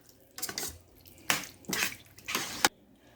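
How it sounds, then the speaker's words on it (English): Water pours from an emptied Rotel can into a skillet of ground beef mixture in several short splashing bursts with brief pauses between, close and clear with no talking. "we're going to add 1 can of water from that rotel can"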